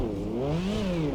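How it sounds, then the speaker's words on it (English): A V12 prototype race car engine in a racing video game revs, its pitch rising and then falling steadily as the driver brings in revs in first gear before letting the clutch out. "First gear, bring in some revs, let the clutch out."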